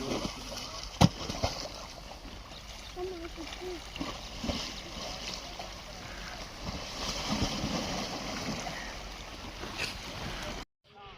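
Chenab river water laps and sloshes against an eroding bank, soft splashes and gurgles close by at low volume, with a sharp knock near the start and faint voices in the background.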